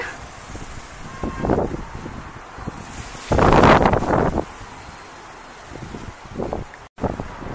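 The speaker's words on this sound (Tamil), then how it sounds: "இப்போ நல்ல காற்று அடிச்சுக்கிட்டு இருக்கு" Steady outdoor wind rumbles and buffets the microphone, swelling into a loud gust midway before easing back to a gentle blow.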